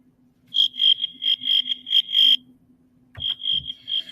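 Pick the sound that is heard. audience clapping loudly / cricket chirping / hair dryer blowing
cricket chirping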